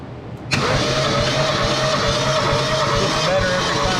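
A 1968 Ford Falcon left abandoned for years catches and runs after cranking, its engine rumbling loud and steady with rough, uneven pulses close by, and a voice briefly audible underneath.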